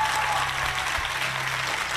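Studio audience of a Catalan TV3 comedy show applauding, a dense steady wash of clapping that carries on for the whole stretch with no voices over it.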